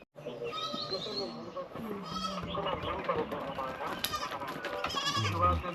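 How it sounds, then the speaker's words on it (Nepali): A goat in a village near Kuwakot, Nepal, gives several wavering bleats against steady outdoor background noise while people talk nearby. "बाख्रा भयो"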